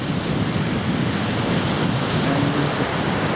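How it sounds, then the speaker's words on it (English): Small waves lap on a river under a steady wind, a continuous close wash of water and broadband rushing air with no distinct individual splashes and no voices. "Nice little waves on the water"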